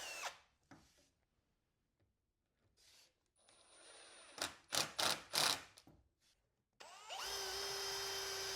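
A power drill drives 1.25-inch exterior screws into wooden slats, with scattered handling clicks and knocks, a cluster of short sharp bursts, then a sustained loud whir that runs to the end, close up.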